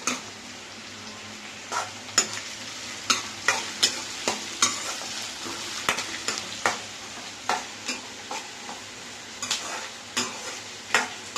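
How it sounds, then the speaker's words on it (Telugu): Ingredients for a catered biryani frying in oil with curry leaves, a steady sizzle under repeated sharp scrapes and clacks of a spoon stirring against the pot, close and alone with no talk. "వేగాలయ్యి కొంతసేపు వేగాలంట. అవే వేగిపోయాయి."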